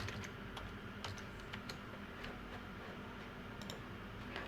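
Someone types Python code on a computer keyboard: quick, soft key clicks in an uneven rhythm, close but faint, over a low background hum with no voices.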